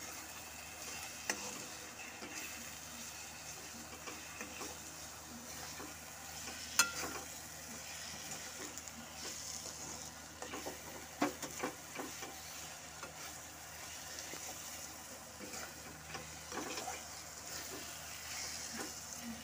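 Meat for kosha mangsho is stirred in a pan, giving a faint steady sizzle with soft scrapes and occasional clinks of the spoon throughout, quiet and without voices.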